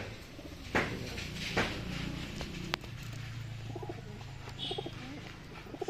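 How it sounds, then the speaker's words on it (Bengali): Deshi giribaz pigeons coo softly inside a loft, with low murmuring calls repeating in short phrases over a quiet background, punctuated by a few sharp knocks and faint wing or door sounds. "আর এই ঘরে পায়রাগুলো ওয়েট করছে।"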